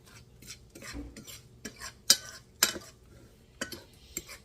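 Pork chops being tossed with seasoning in a bowl, with irregular scrapes, clinks of a utensil and soft wet rustling, close up and without talk.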